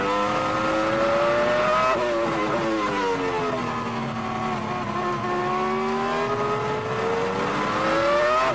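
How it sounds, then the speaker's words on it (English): Onboard Formula 1 car engine at Silverstone in 2002 during British Grand Prix practice: a loud, continuous high-pitched V10 whine that dips as the car slows through a tight section, then climbs again as it accelerates out, with no talk. "listen to the engine note as well through the tight section"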